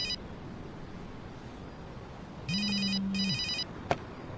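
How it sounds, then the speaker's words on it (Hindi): An old-style telephone rings in a Hindi-dubbed action film scene, two bursts of bright bell trills with a low electronic hum beneath them, followed by a short sharp click as the receiver is picked up, with no voices. "फोन उठाने वाले हो क्या?"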